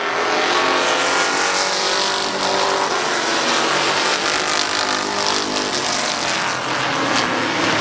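Race cars at Midvale Speedway on an oval short track roar past in a dense, loud, continuous wash of engine noise, with rising and falling passes blending together and no talk.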